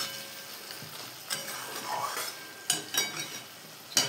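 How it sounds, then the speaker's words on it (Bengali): Chochchori fries in fish oil in a pan, a soft, steady sizzle heard close up, broken by a few light scrapes and clinks of stirring. "বন্ধুরা মাছের তেলে চটপটি বসিয়ে দিয়েছি"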